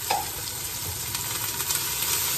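Upo gourd sizzling in a hot pan, a loud, dense, continuous hiss with a few light stirring clicks, close up and without talk.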